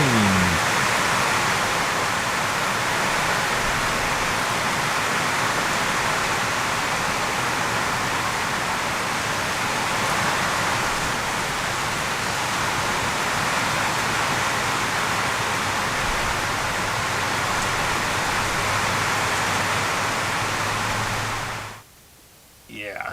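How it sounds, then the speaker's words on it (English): Heavy rain from Hurricane Lane falling on a garden, a loud, steady broadband roar that continues unbroken for about twenty seconds before cutting off abruptly near the end. "There's the rain from Hurricane Lane."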